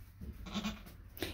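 A small adult goat bleats in a couple of short, faint, nasal cries close by, separated by brief pauses with quiet background.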